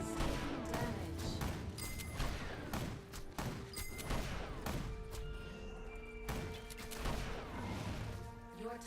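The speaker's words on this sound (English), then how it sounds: "Your top tower is taking damage." Dense, continuous impacts, crashes and thuds of a top tower taking damage in a multiplayer strategy game, loud and busy throughout, with brief announcer voice.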